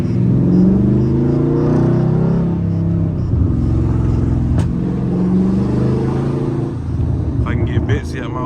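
A loud Dodge Charger Scat Pack V8 rumbles steadily from the cabin while being driven with manual-style downshifts, its low drone broken by a brief rev change, with a voice talking over it.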